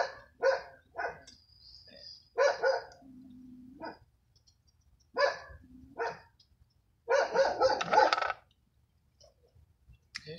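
A dog barks in short bursts of several sharp, mid-distance barks separated by pauses, with a few lower sounds between them and quiet background.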